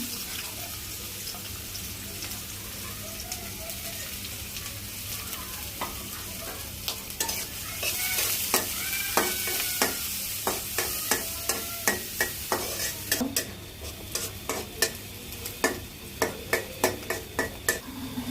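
Onion, green chili and garlic frying in oil in a pan, a steady sizzle that grows louder midway, with a run of sharp, regular clicks from a utensil stirring and scraping near the end.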